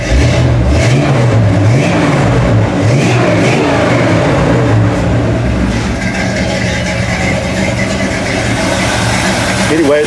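Chevy C10 pickup truck engine running on fresh fuel, a loud continuous rumble with rising revs early on, close up and steady for the full stretch.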